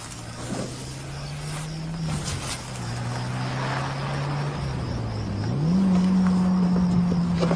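A fancy car with California license plates drives up, its steady engine hum rising in pitch near the end as it approaches, moderately close against a quiet background.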